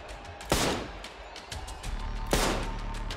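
In Trepang2, two loud, close gunshot blasts about two seconds apart break light bulbs in a shooter game, with lighter scattered shots and clatter between them.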